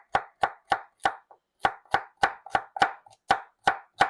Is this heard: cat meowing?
no